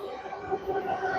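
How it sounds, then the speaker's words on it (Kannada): A Bengaluru metro train arrives at an underground station, a low steady rumble with a faint tonal whine building slightly over a brief moment. "ನಮ್ಮ ಟ್ರೈನ್ ಬಂತು."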